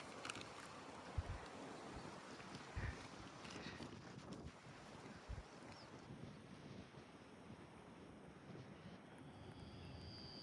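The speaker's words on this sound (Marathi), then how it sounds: "एकदम शांत आहे, नुसता हवेचा आवाज आहे आणि थोडा पाणी खलखलतं त्याचा आवाज आहे." Wind buffets the microphone in a steady broadband rush at a quiet creek under midday sun, with faint water gurgling beneath. A few low thumps come early, and a thin high whine enters partway through. No one speaks.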